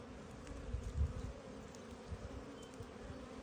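Honeybees buzz in a steady low drone around a newly installed nuc hive in a calm, sunny Michigan apiary as they carry in pollen, with one slightly louder pass close by.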